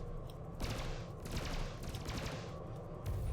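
Ship cannon fire in the space combat game Elite: Dangerous, several rapid loud bursts of weapon discharges in quick succession over a constant low engine hum.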